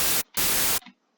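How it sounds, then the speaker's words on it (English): White noise from the FL Studio 3x Oscillator plugin: two loud bursts of harsh, hissing static, the first short and the second about half a second long, each cutting off abruptly, followed by a faint trailing tail. "we're going to load up 3x oscillator, and we're just going to click this die looking shape, and that's actually just a white noise"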